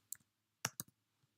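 Computer keyboard typing in a quiet room: a few sharp, close keystroke clicks in short separated bursts, ending with one faint tap.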